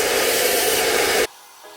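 A hair dryer on low heat blowing steadily while hair is smoothed over a brush, a loud continuous airy whoosh that cuts off abruptly, leaving a faint low hum.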